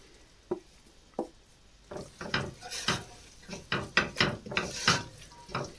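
Flour being stirred into butter, onions and leeks in a pan: a couple of isolated knocks, then a run of rhythmic scraping and clattering strokes, close and fairly quiet.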